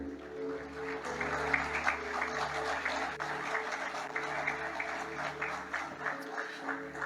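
Church congregation applauding, a sustained wash of clapping over sustained organ or keyboard tones, steady and moderately loud throughout.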